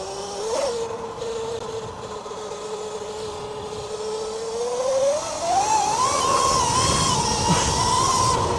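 A 72v Sur Ron electric dirt bike pulling away at part throttle, its motor giving a smooth whine that holds steady and then climbs in pitch, close, with wind noise behind it.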